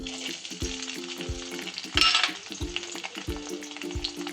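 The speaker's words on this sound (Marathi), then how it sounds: "आणि त्यामध्ये थोड्याशा मिरच्या टाकते" Green chilies frying in hot oil for shepu (dill) bhaji, a steady crackling sizzle with rhythmic stirring or clinking at regular intervals and a brief louder burst midway, with no voices.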